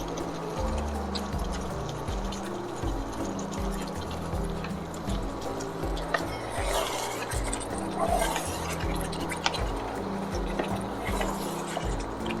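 Prepared tomato paste poured into a creamy chicken mixture in a pan, a wet steady sloshing and stirring with occasional drips and utensil scrapes, continuous and moderately close.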